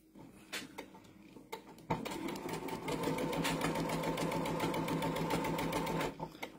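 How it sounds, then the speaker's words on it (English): Sewing machine stitching quilt pieces together, a steady close mechanical whir running from about two seconds to near the end after some light handling clicks. "is when I sew all these together"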